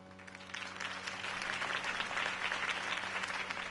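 Crowd applause at a campaign speech, a dense, steady wash of clapping from many hands that rises quickly and holds at full strength.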